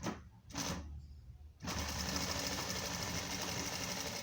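A sewing machine stitches a rectangular jacket pocket, starting with short stop-and-go bursts and then running in a steady, close, rapid mechanical whir, with no talking.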